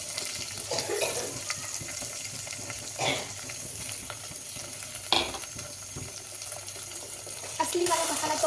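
Black masala for a chicken dish frying in a pan and being stirred, a continuous sizzle broken by a few scraping strokes of the spoon.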